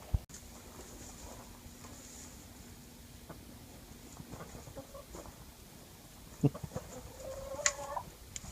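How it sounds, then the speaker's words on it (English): Chickens feeding on a tray of fodder give a few soft clucks and calls, faint at first and louder near the end, over a quiet background with occasional small taps. "So the chickens like it. They're kind of pecking away."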